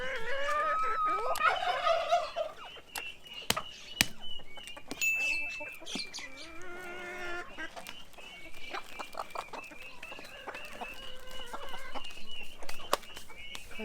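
Chickens cluck and squawk in a noisy village yard in Uzbekistan, with sharp clicks and knocks scattered throughout and a faint voice now and then.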